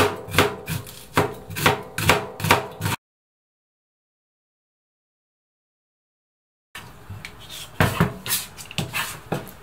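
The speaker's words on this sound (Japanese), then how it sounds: "玉ねぎはみじん切りにします。" Rapid rhythmic knife strikes on a cutting board as onion is minced, a pause of silence, then the quick chopping resumes.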